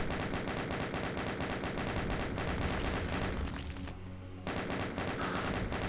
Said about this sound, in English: But this third one, we have to chain gun again.